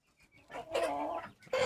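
Hens squabbling with sharp agitated clucks and squawks in a short close burst, a few soft calls leading into a louder flurry.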